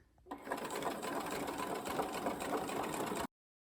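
Sewing machine top stitching the fly of a pair of jeans, running as one steady continuous burst of nearly three seconds after a quiet start, then cutting off abruptly.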